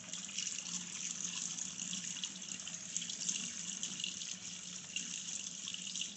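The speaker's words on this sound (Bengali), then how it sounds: "ধুয়ে নিচ্ছে ফলগুলি" Fruit rinsed under a running kitchen tap, a steady close hiss of flowing water splashing into a sink throughout, with no talking.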